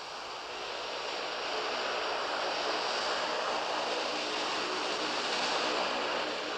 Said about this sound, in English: Soviet Antonov transport planes with loads of between 45 and 92 tons continue to bring supplies and equipment into Kabul